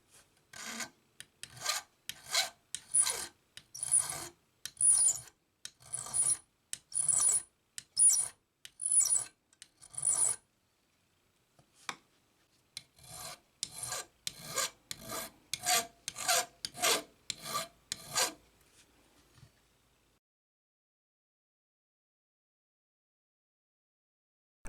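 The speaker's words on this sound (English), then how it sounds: "now I'm going to file that smooth and reset it back in there with a little bit of epoxy" A hand file rasps across a metal fitting from a Gibson ES-165 guitar in a rapid series of close, regular strokes, pausing briefly midway, then resuming before falling silent.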